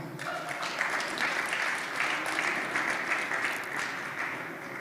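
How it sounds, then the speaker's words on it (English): An audience at a university research centre event claps steadily for several seconds, a dense, sustained round of applause with faint voices underneath. "I think she deserves a clap."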